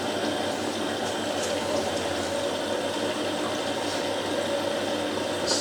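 A Hotpoint 9530 washing machine, fitted with new carbon brushes and a solenoid valve, tumbling through its main wash: a steady, fairly faint broadband rush of sloshing water and drum noise without a break.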